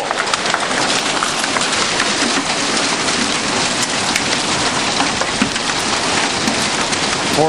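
Dense, steady clattering of hailstones pelting hard surfaces, a loud continuous rattle with sharp ticks and no voices.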